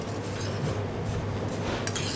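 Lobster, herbs, poached monkfish cheeks and lobster oil are mixed for fish cakes in a bowl. A utensil makes soft, continuous scraping and faint clinks, with a brighter clink near the end.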